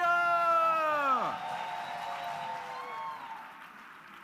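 A voice calls out with a long, falling, drawn-out shout, followed by a festival crowd clapping and cheering steadily in the background for a choir.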